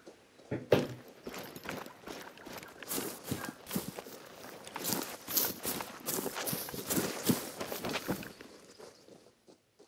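Buffalo hooves pound across ground in the hunting game The Hunter Call of the Wild, set in Patagonia, a rapid irregular drumming of many running animals that builds and then fades out, fairly close.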